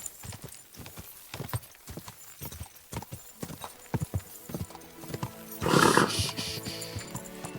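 A horse's hooves clip-clop on the ground in the video game Kingdom Come: Deliverance 2, a steady run of close, sharp knocks that give way to a loud whinny near the end.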